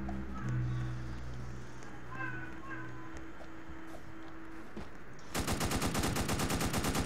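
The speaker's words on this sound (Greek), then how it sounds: "Κάποιος με πυροβόλησε." Gunfire erupts in a prison video game, a rapid automatic burst of evenly spaced shots cutting in sharply near the end after a stretch of quieter game ambience.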